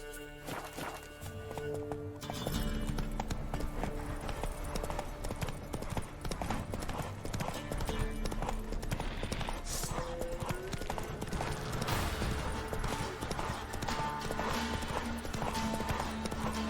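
Roach the horse galloping in The Witcher 3, a loud rapid clip-clop of hooves running steadily close by, with brief voices and a whinny-like cry over the hoofbeats.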